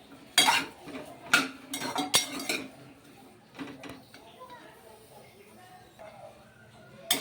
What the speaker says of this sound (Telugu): మనం గిన్నె నిండా బెండకాయ ముక్కలు వేస్తే నేను వేగితే ఇట్లా వేయించుకోవాలండి